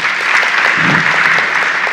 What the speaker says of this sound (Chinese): 所以我们给他一个掌声好不好？